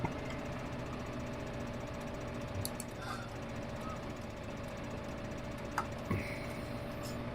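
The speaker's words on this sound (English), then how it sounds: "It's such a small tractor." A small farm tractor engine runs steadily at a low, even idle-like hum throughout, with a few faint knocks and clicks on top.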